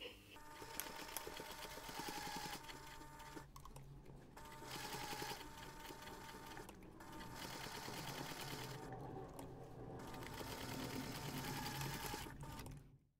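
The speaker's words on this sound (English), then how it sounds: "you're going to take this to the machine and we're going to top stitch around the finished seams" A sewing machine top-stitches around the finished seams of a small fabric jewellery pouch, running in steady continuous bursts with brief pauses between runs, close and fairly loud with no talking.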